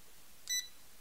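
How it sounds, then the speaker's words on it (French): A single short, high-pitched electronic beep from an electricity detector pen as it switches on, clear and isolated against a quiet background. "Si je l'actionne, il va nous faire un bip. Vous avez entendu?"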